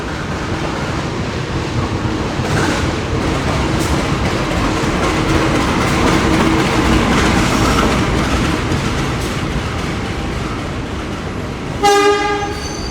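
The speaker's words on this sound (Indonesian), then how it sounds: "kereta api Penataran masuk stasiun Sidoarjo" Penataran passenger train pulling into Sidoarjo station on its run from Surabaya Kota, a loud continuous rumble of wagons and wheels rolling past close by, ending with a short sharp horn blast near the end.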